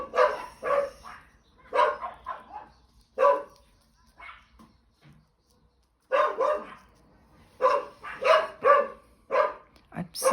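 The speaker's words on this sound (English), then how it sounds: "Oh, that dog's coming for a walk past our house," A dog walking past a house outdoors barks repeatedly in clustered bursts, fairly close and clear, with short pauses between volleys.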